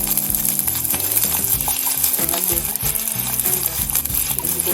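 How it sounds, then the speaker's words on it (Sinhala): Fenugreek and mustard seeds, with garlic, fry in hot oil for a Sri Lankan horse gram (kollu) curry, giving a loud, continuous close sizzle with crackling and occasional stirring clinks. "ඒකට මම තෙල් පැහිගෙන ඉති උළුහල් ටිකක් සහ අබ එකතු කරගන්නවා"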